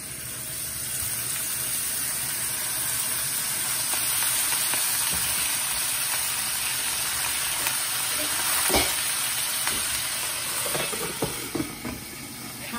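Chinese cabbage and maitake mushroom stir-frying in hot cooking oil, a steady close sizzle and hiss with occasional sharper crackles and stirring scrapes, heard alone.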